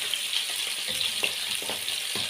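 Chicken gizzards and hearts sizzle steadily in hot oil in a pan, a continuous close crackling hiss with small pops scattered throughout, no voices.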